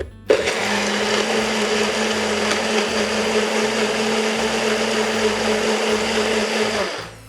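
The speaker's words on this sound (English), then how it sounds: "And then we're gonna do 100 grams of pineapple, frozen pineapple." A blender crushes frozen pineapple for a piña colada, roaring loudly and steadily for about seven seconds before cutting off.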